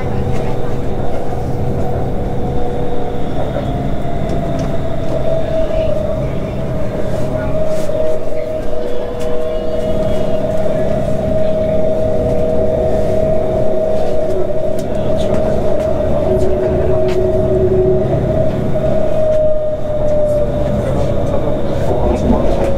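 Interior ride on a Bangkok Metro Blue Line train, a steady loud rumble with a sustained motor whine rising and holding through the run, a voice talking intermittently over it.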